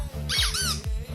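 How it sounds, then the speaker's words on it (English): A rubber squeaky dog toy gives one drawn-out, wavering squeak, close and clear, over a quiet rhythmic backing beat. "Squeaky toy. Dog toy."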